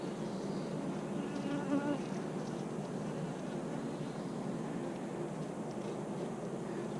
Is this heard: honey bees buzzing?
yes